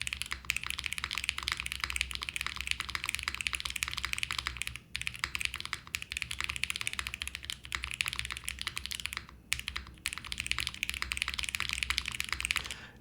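Rapid typing on a custom-built mechanical keyboard in a top mount configuration, dense clacky keystrokes close up and continuous, with a couple of brief pauses.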